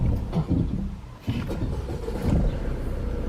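A car engine idles and strains as a learner driver slowly lets out the clutch in first gear, a low rumbling drone with a brief dip before the revs pick up again, close by.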